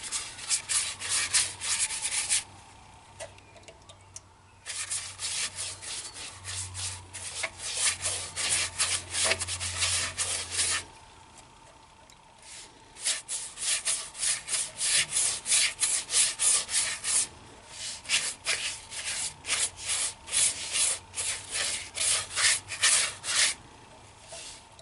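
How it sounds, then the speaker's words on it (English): A white oak bowl is sanded on a woodturning lathe, with repeated rhythmic rubbing strokes that come close and loud in long bursts, separated by brief pauses, and no talk. "Been sanding for a little bit."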